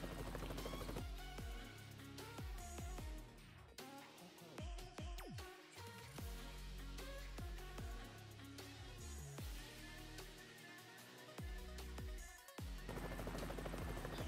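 A helicopter flying in the Next RP video game, with a steady loud rotor and engine drone running throughout, broken by sharp clicking and tapping noises.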